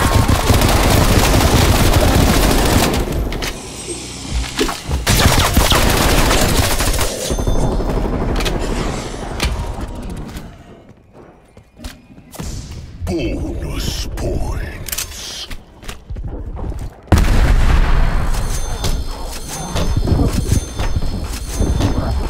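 Rapid bursts of SMG fire in a Call of Duty: Black Ops Cold War zombies match, loud and close, with sustained rattling volleys that thin out midway and then return, while voices talk over them.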